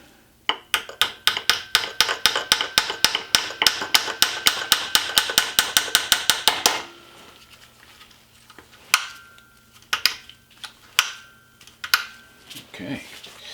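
A little hammer taps out a rapid, steady series of sharp metallic knocks during cleanup of a paint spray gun, then a few sparser taps follow after a short pause.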